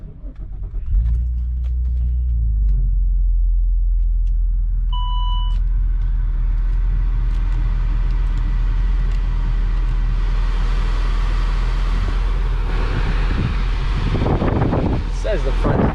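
A 2008 Saab 9-3 Turbo X on new tires drives along, its steady engine and road rumble loud and continuous, with wind buffeting the microphone and occasional voices over it.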